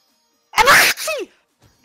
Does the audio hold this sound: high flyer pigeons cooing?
no